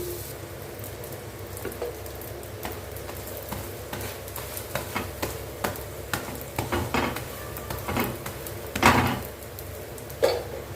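Butter potato roti sizzles steadily in a hot pan, a continuous frying hiss broken by repeated soft pressing and scraping taps and a few louder clatters, with no talking.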